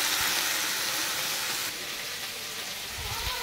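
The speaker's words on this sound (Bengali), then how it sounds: "তো দেখো এবার এটাকে ভালো করে আরেকবার নেড়ে চেড়ে নেবো, ভালো করে একটু ভাজা ভাজা করে নেবো" Finely chopped potato pieces sizzle steadily in hot oil in a pan, a loud continuous fry with a brief scrape of stirring near the end.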